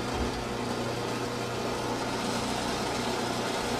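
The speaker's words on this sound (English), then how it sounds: "this is an oxidizing flame, hear it? It's like a jet engine." A steady, loud broadband roar from a torch's oxidizing flame, like a jet engine, fills the whole stretch with a constant low hum beneath it, burning hard without letting up.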